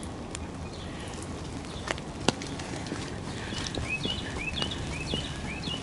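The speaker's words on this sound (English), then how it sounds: "Oh my goodness, that bird has a nice song." A robin sings on a rainy outdoor walk, repeating short bright whistled phrases at moderate distance over steady rain patter, scattered drips and taps, growing more frequent toward the end.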